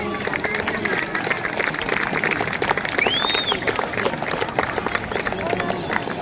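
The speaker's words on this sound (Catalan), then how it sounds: "un gran aplaudiment per ells, sisplau" An outdoor crowd at a giants gathering in Catalonia gives a sustained, dense round of applause for the godparents of a festival giant, with babble and a whistle-like squeal over the clapping.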